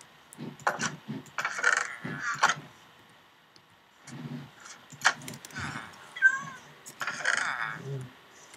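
A cat in the Minecraft video game meows repeatedly, several short separate calls spread across the stretch with quiet gaps between, close and clear, plus a few small game clicks.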